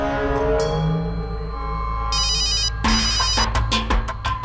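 A telephone rings with a repeating electronic trill while someone calls Lucky, set over steady background music with sharper tonal hits following the ring.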